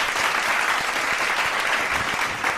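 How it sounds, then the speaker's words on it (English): Audience clapping for a guest speaker at an SEO ask-me-anything session, a continuous moderate patter of many hands with a few sharper individual claps standing out, no talking over it. "let's give a round of applause to Kyle."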